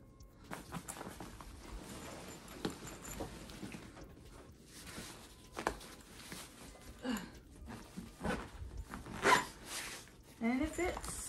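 A backpack zipper is pulled in short repeated bursts while the bag is packed, mixed with rustling fabric and handling noises; a person talks intermittently in between.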